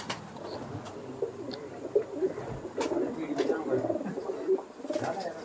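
Pigeons, including Kamagar, Teedy and Sialkoti breeds, coo softly in repeated low rolling phrases close by, with faint rustles and occasional small chirps in the background.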